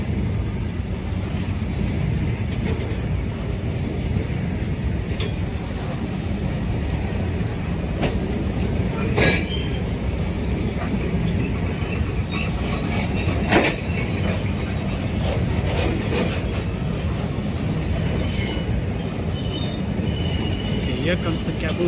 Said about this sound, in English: Here comes the caboose, where the guard sits.